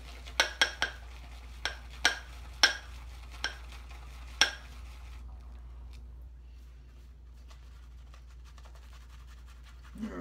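Shaving soap being whipped into lather in a bowl with a brush gives sharp tapping and clinking strokes, several in quick succession, then a quieter stretch of soft swishing.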